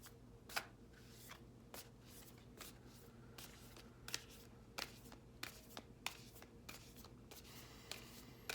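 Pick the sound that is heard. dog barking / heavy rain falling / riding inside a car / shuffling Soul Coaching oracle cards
shuffling Soul Coaching oracle cards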